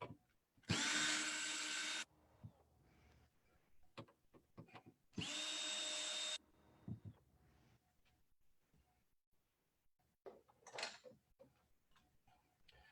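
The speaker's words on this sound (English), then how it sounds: "So I'm going to remove these front 2 screws here." A power driver backs out the two front screws of a fog machine in two loud, steady bursts of about a second each, separated by quiet handling clicks and small clatters of parts.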